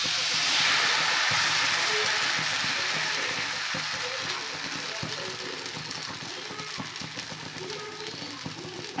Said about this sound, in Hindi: अब मैं इसमें घावने का आटा डालूँगी।